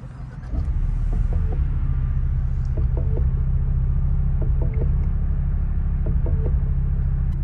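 A 2024 Ford Mustang's 2.3-liter EcoBoost four-cylinder fires up after a brief pause, then settles into a steady, close, low droning idle with a smooth throbbing hum and faint intermittent clicks over it.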